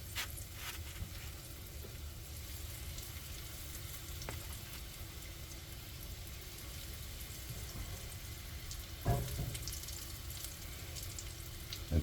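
City chicken pieces frying in hot oil on a stove, a steady soft sizzle throughout with a brief clatter near the end.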